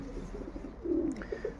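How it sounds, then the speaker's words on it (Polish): Hungry young pigeons in an aviary give faint, brief squeaks and soft coos over quiet background noise. "Chyba je słychać, jak agresywnie piszczą, bo są głodne."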